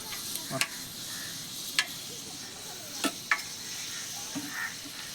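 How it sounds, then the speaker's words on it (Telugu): Fenugreek seeds sizzle in hot oil, giving a soft, steady frying hiss broken by a few sharp pops and ticks, fairly quiet and close. "మెంతులు వేసుకుంటాం నూనె నూనె బాగా కాగిపోయింది"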